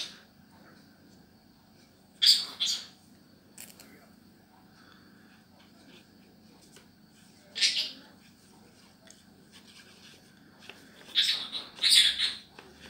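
A pet parrot gives short, shrill squawks in a quiet room, with a few sharp bursts scattered across the stretch and a cluster of louder calls near the end.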